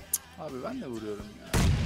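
A PUBG firefight ends in a loud burst of gunfire that cuts in abruptly and holds to the close of the clip, following a stretch of player talk. A sharp single crack sounds early on as well.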